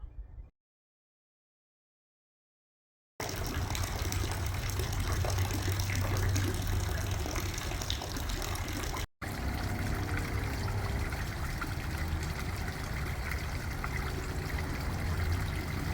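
Water features in a garden trickle and splash in a steady, fairly loud stream for about thirteen seconds after a brief quiet start, with one very short break, and no one talking.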